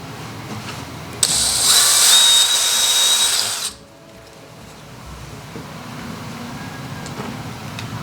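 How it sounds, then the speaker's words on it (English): A power drill with a 5/64 bit whirs steadily for about two and a half seconds while pre-drilling a hole, then winds down and stops, leaving quiet room noise. "So we'll pre-drill that."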